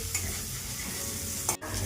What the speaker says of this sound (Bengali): ভাজা হয়ে গেছে হালকা, এটা তুলে নেব, এটা ভেজে নেব।